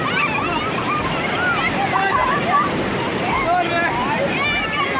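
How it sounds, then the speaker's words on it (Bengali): Sea waves break and wash steadily on the beach at Puri, a continuous loud roar of surf mixed with wind, with voices and crowd babble on the shore throughout. "ঢেউ তোমরা দেখতে পাচ্ছ এই যে"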